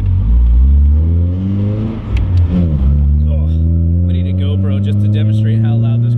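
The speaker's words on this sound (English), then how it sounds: "Just to demonstrate how loud this car actually can be, because this thing is not a quiet beast." A Nissan 240SX engine revs loudly and close by, its deep harmonic drone rising and falling in pitch through several throttle blips, with brief talk over it.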